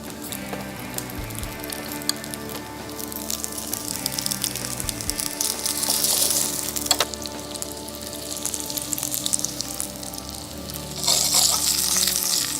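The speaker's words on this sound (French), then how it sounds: "Donc là, on va cuire nos pommes grenaille, un petit peu d'huile" Small grenaille potatoes frying in oil and butter in a pan, giving a continuous dense sizzle that swells louder near the middle and again at the end, close and unbroken, with no one talking.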